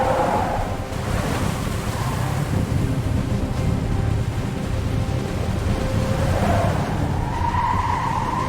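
A car fleeing in a chase skids, a loud, steady rush of engine and tyre noise with a long drawn skid sweeping through the middle of the clip and wind-like roar throughout.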